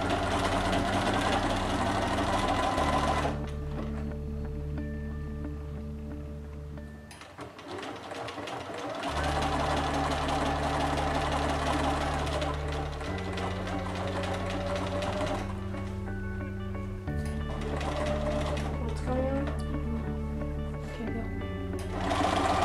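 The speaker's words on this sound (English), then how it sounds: "now we're gonna sew the back seam" A sewing machine stitches the back seam of a doll-sized swimsuit, running in steady motor bursts that stop and restart several times, loud and close, with brief pauses between runs.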